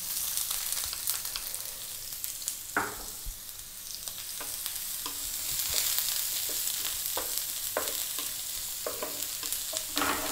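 Chopped onion frying with toasted garlic in a skillet gives a steady hiss and crackle, broken by scraping stirs of a utensil against the pan, close and moderately loud.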